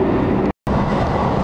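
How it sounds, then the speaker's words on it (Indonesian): Argo Lawu passenger train running at full speed, a loud steady rumble of wheels and carriage noise, briefly cut to silence for a moment before resuming. "Memang cepat sekali kereta api Argo Lawu ini."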